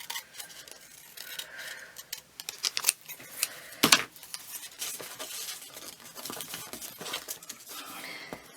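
Scissors cut white edges off handmade paper ephemera for a journal, a series of small, close snips and paper crinkles with a sharper crisp cut in the middle, quiet and without talk.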